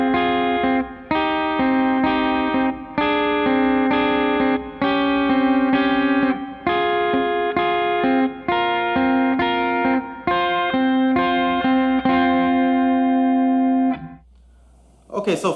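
Crunchy distorted electric guitar plays a chugging chord riff, repeated strums in a steady rhythm, loud and alone before stopping.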